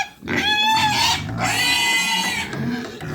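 Pigs on a ranch grunt and squeal in a few loud, close bursts with rising and falling tonal calls, separated by short pauses.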